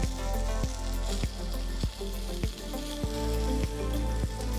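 Smashed garlic cloves hit a hot pan beside a searing prime ribeye, giving a loud, constant sizzle and crackle, with sharp clacks and knocks recurring about every half second.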